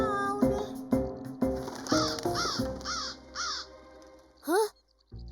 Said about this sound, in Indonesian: Itu kan burung yang di pohon.